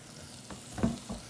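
Shallots and garlic shallow frying in a little oil, a soft sizzle with a few brief stirring scrapes and one louder knock.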